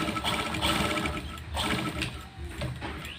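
A sewing machine stitches slowly along a trouser zipper fly, a close, steady whirring rattle running throughout with a few faint handling knocks and no talking.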